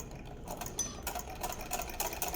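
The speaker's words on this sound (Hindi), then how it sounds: "बिल्कुल कोने से ना मैं सिलाई चला रही हूँ" Sewing machine stitching fabric right along the corner edge, worked slowly by pedal during a garment lesson; a steady, close mechanical whirr with a quick rhythmic patter that builds slightly in loudness, no speech.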